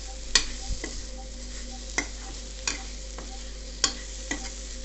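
Tomatoes for a prawn curry stirred in a pan, with sharp spoon scrapes and clacks every second or so over a steady faint sizzle, no voices.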